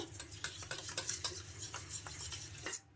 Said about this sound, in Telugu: ఇలా ఆయిల్ అయితే వేసుకొని ఇలా ఒక పేస్ట్ లాగా తయారు చేసుకోవాలి.